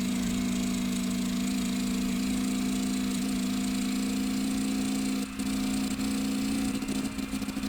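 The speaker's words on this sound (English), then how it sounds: "You can hear the engine sputtering because it's at the end of third gear." A steady, droning sports car engine hum in the game GearBlocks holds one low pitch throughout, sputtering at the end of third gear near top speed, loud and continuous with a faint rough flutter, no talking.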